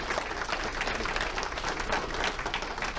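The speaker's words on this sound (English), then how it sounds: "Can we give a round of applause to the staff and board members that are here?" Awards ceremony crowd giving a round of applause for staff and board members, dense, steady clapping from a large audience throughout.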